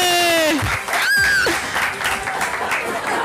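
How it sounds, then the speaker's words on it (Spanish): Guests applaud at a birthday party with a clown, clapping heard under and between raised voices and shouts, with whistle-like tones mixed in. "¡Fuerte el aplauso,"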